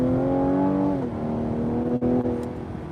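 A 2020 Cadillac CT5 3.0 V6 engine in sport mode hums steadily at a raised pitch under throttle, dipping slightly, then holding a strong, continuous drone close by.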